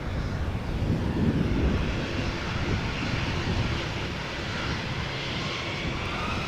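KLM Embraer jet lined up on the runway at Amsterdam Schiphol, its engines spooling up into a steady, loud broadband roar heard from a distance with some wind noise, no talk.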